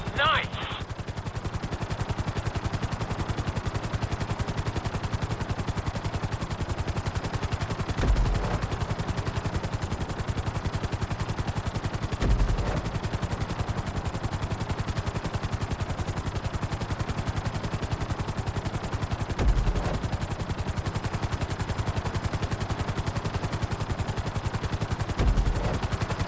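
Helicopter in Grand Theft Auto V, a continuous rotor chop and turbine whine filling the whole stretch at steady loudness, with a few brief thumps scattered along the way.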